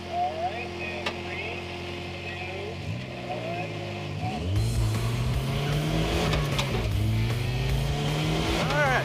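A race car accelerates hard off a circle track onto a return road, engine revving and rising through the gears with a loud, close, sustained roar and brief tire squeal.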